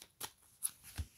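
A tarot deck is cut by hand: three soft, quick card slaps and riffles in close succession, faint and close with no talking.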